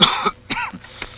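A person coughs and clears the throat in a short burst of two or three rough, close hacks with brief gaps between them.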